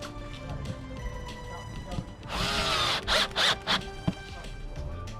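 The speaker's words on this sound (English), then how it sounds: "just should be a case of screwing it on" A power drill drives screws to fix a bracket for a false floor in a camper van, several short whirring bursts in the middle of the clip, close and fairly loud.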